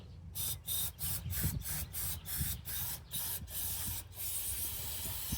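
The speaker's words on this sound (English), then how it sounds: "See if I got enough carb cleaner to do that with." Carb cleaner sprays in a series of short, sharp hissing bursts onto a dirty old Montgomery Ward rototiller, about a dozen quick pulses at an uneven rhythm, close and moderately loud over a low background hum.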